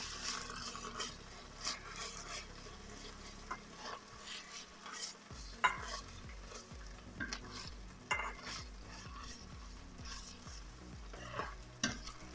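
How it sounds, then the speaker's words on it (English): Okra with green chilies, garlic and ginger is stirred in a pan frying over medium heat: a steady sizzle with repeated scraping and rubbing strokes and occasional clinks of utensil against the pan. "I'm just going to give it a stir."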